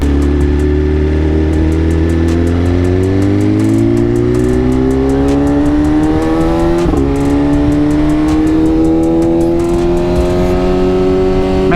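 A Ducati Pikes Peak motorcycle with a BT Moto Stage 1 tune, its engine droning loud and close as it rides steadily. The pitch climbs slowly through a long pull, dips briefly at one gear change, then rises again.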